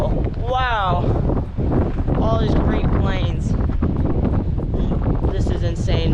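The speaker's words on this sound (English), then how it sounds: "It's really windy out here, guys." Strong wind buffets the microphone on an open lookout over wide plains at Megiddo in Israel, a loud constant roar with excited voices talking over it.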